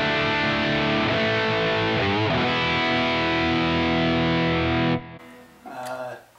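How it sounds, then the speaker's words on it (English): A 2017 Gibson Les Paul Standard T electric guitar, played on its bridge humbucker through a Yamaha THR amp on the Brown setting, grinds out loud, distorted rhythm chords that ring continuously, then drop to a quieter, sparser passage. "Bridge position humbucker, still on the brown one setting on the THR."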